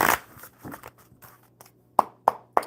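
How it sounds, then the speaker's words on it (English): A deck of cards is shuffled close by, with soft riffling bursts followed by three sharp bridging snaps near the end, alone in a quiet room. "One more real good shuffle"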